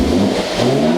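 A Toyota GT86 fitted with a Remus exhaust and carbon intake revs hard up close, a loud, sustained engine roar that swells and holds for a moment.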